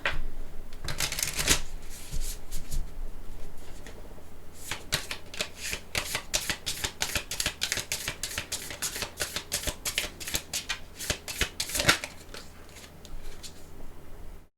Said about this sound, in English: I'm gonna just pick one more card. One more tarot card.